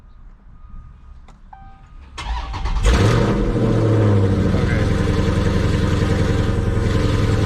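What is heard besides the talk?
car engine starting and running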